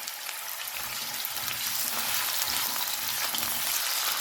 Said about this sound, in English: I'll fry the potatoes till they get a nice color on them.